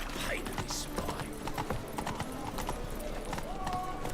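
Horse hooves clatter in a rapid, rhythmic clip-clop gallop in The Witcher 3, close and steady, with game voices and other sound effects over them.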